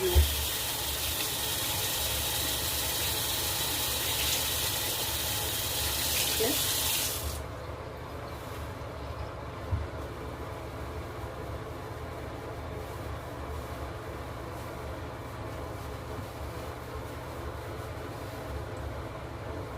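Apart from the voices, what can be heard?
tap water running while washing face with cold water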